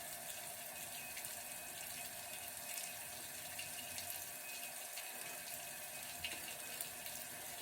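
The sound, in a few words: water running and splashing while washing face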